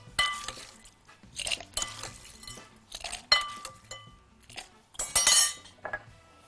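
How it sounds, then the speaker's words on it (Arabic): Crushed ice tumbles and clinks into glasses for iced lattes in several bright, rattling bursts, close and fairly loud, ending in a denser cascade of chinking. "ثلج مجروش على كل واحدة بقى شوية كده"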